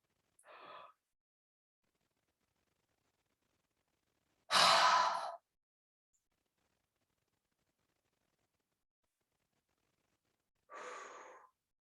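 Slow, deep breaths taken during a guided sophrology relaxation exercise: three separate breathy exhalations spaced several seconds apart, the middle one loudest and longest, with near silence between them.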